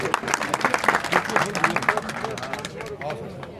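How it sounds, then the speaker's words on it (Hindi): Loud, close crowd clapping at a BJP party conference, dense and rhythmic with bursts of cheering and background chatter woven through the applause. "भारतीय जनता पार्टी की ओर से जोरदार तालियां सैनी जी के लिए।"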